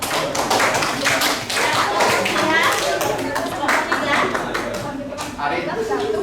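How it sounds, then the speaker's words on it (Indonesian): A group of people clap their hands together in a room, a dense run of sharp, close claps that carries on throughout, with children and adults chattering underneath. "Tepuk tangan Bu."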